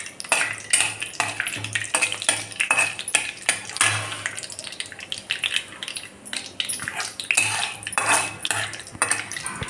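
Dried red chillies, cumin and mustard seeds fry in a pan for a potato masala rice, with a soft sizzle under repeated clinks and scrapes of a metal spoon stirring against the pan.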